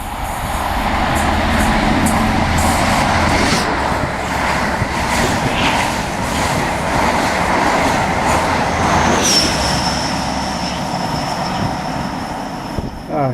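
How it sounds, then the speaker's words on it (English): Trains on a main line as a Corby service waits to cross a fast line occupied by a London-bound express: a steady, loud rumble of passing rail traffic with a rising wheel squeal midway, no talk. "our Corby train is waiting to cross on this fast line, which is now occupied by an express to London"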